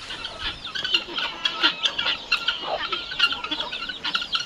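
Domestic farm chickens cluck in a busy, overlapping chorus, fairly close and steady, with no one talking.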